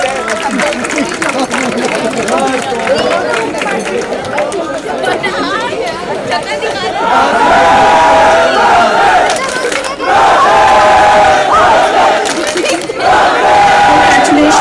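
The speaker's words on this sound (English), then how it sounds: "We will please have a round of applause for all our winners." A large crowd cheers and shouts for winners at a school trophy ceremony, swelling louder halfway through into sustained roaring, with a general babble of many voices throughout.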